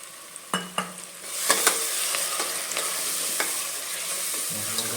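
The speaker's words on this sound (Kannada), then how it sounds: "ಈಗ ಒಗ್ಗರಣೆ ಜೊತೆಗೆ ಮಸಾಲೆ ಹಾಕಿದ್ದಂಥದ್ದಾಯಿತು. ಈಗ ಅದಕ್ಕೆ ಒಂದು ಲೋಟ ನೀರು ಆ್ಯಡ್ ಮಾಡ್ತಾಯಿದ್ದೀವಿ." Sizzling masala tempering for avarekalu (field bean) sambar, cooked village style, with a few sharp crackles as water hits the hot pan, then a steady loud sizzle and some stirring; no voices.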